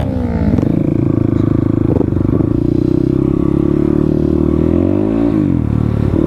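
A motorcycle engine roars close and loud on a road in Sikkim, holding a steady, rumbling drone with small shifts in pitch as it is ridden.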